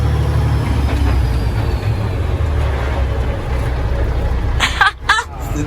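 Kenworth W900L truck engine rumbling steadily and accelerating on winding roads, a loud, continuous low drone with brief clatter near the end and someone talking over it.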